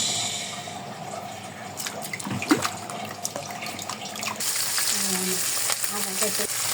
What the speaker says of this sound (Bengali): এই যে আমি হচ্ছে মাছ ভাজি করতেছি